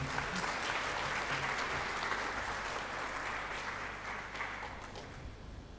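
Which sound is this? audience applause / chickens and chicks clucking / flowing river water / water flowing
audience applause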